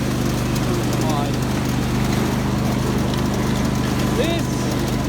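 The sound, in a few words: Craftsman GT5000 lawn tractor engine running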